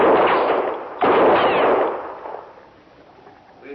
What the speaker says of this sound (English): Maybe my shots will get a little closer to you from time to time.